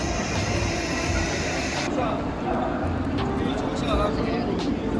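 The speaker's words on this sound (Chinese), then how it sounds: "中国的高铁非常快" Inside a Chinese high-speed train, a steady low rumble and whoosh of the ride fills the scene, loud and constant, with people talking beneath it.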